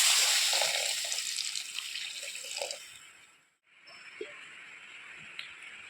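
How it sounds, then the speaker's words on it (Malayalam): Water pours steadily into a pot, a bright rushing splash that fades out, followed by quiet kitchen clinks. "വേകാനുള്ള വെള്ളം ഒഴിച്ചു കൊടുക്കും."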